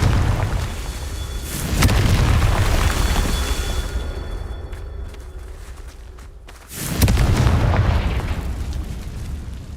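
Confringo fire spell blasts in Hogwarts Legacy: two heavy, booming bursts about five seconds apart, each a loud low rumble that fades slowly, with faint ambient game tones between.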